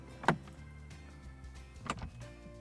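A Mercedes-AMG S63 L door pulls itself shut with its soft-close mechanism, a short motor whir followed by two soft thuds of the latch, quiet and close in an otherwise still cabin.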